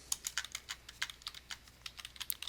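Quick, uneven clicking of a computer keyboard being typed on at close range, bursts of keystrokes with brief pauses, alone and without speech.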